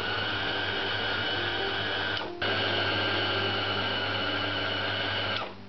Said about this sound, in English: I've now got all the ingredients into the mixer and we're going to start mixing